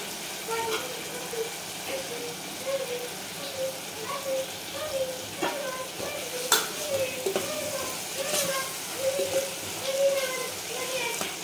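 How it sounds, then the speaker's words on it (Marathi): Dal simmers and sizzles in a pan while salt is stirred through it, with soft scraping and bubbling going on steadily throughout and a few sharper clinks of the spoon. "चवीनुसार मीठ टाकायचं आणि मिक्स करून घेऊ चांगलं"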